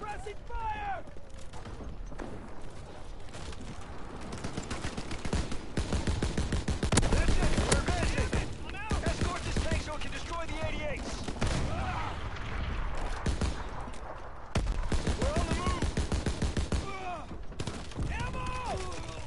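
Rapid, sustained gunfire of suppressing fire in a video-game firefight, loud and nearly continuous bursts over the whole stretch with a voice talking intermittently underneath.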